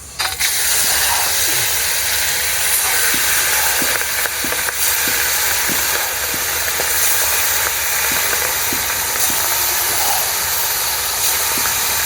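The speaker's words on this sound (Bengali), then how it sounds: "এবার গরম তেলে মাছ দিয়ে দিব।" Fish marinated in spices fries in a large pot of about five litres of hot oil, with a loud, continuous, hissing sizzle broken by occasional sharp pops and no voices.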